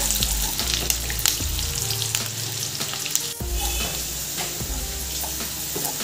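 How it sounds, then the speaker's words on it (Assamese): Chopped onions fry in oil over a high flame at the start of an Assamese masoor dal dish, giving a loud, continuous close sizzle with occasional stirring scrapes and no talking. "মোৰ পিঁয়াজখিনি ধুনীয়াকৈ ভাজ খাই গৈছে"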